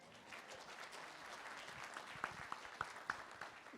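Soft, thin clapping from a town hall audience, fairly distant and quiet, with a few sharper individual claps standing out near the end.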